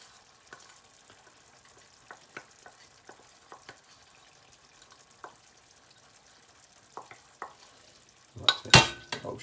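Mashed garlic, vinegar and sugar are stirred into a pan for pork vindaloo, giving scattered soft scraping and clinking taps, then a louder burst of sizzle and clatter near the end.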